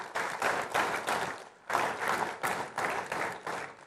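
Audience at the Ideas of India 2026 summit applauds the event sponsors, a dense burst of clapping that swells, dips briefly, then surges again at steady loudness, with no talking over it.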